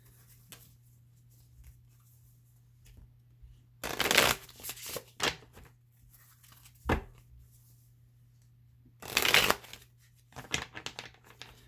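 Tarot cards from a Green Witch deck being shuffled in two separate bursts of quick riffling and flicking, close and crisp against a quiet room with a low steady hum, no talking.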